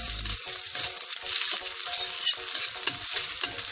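Spice paste sizzling and frying in a little vegetable oil while the pan is shaken, for cooking sardines; a steady, close hiss with soft shuffling bursts throughout, no talking.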